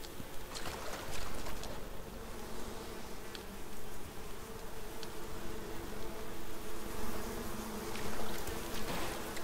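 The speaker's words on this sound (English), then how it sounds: "There's bees, I can hear them." Bees swarm around a nest in the survival game Icarus, a dense continuous buzzing that swells and fades for several seconds, close and loud with no talk over it.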